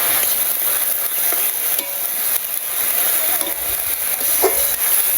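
Mung dal lentils tipped into a hot pan in a village kitchen, followed by stirring, with steady loud sizzling and frying hiss and faint scraping taps from the spoon, no voices.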